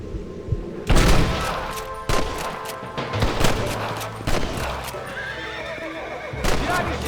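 Gunfire in the video game Red Dead Redemption, several loud gunshot bursts amid galloping hooves and horse whinnies, with a game action soundtrack underneath.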